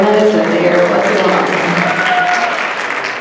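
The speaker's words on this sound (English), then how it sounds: "I want a round of applause for these two" Loud audience applause at a Lincoln High School event, a dense wash of many hands clapping that holds steady and eases slightly toward the end.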